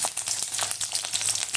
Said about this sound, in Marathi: फोडणी करता तेल गरम झालं आहे, त्यामध्ये हिरवी मिरची,